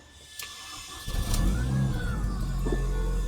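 A Mini Cooper S engine, after an alternator replacement, cranks briefly, catches, and settles into a steady idle close by, with a rising whine as it starts.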